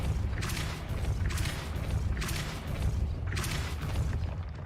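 Confringo explosion spells in Hogwarts Legacy burst four times in a roughly regular rhythm, each a loud crackling blast over a rumbling low background.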